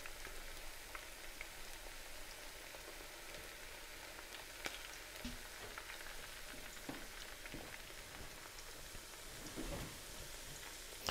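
Slices of summer squash tempura fry in hot oil, a faint, continuous crackling sizzle with scattered pops, heard alone without talk.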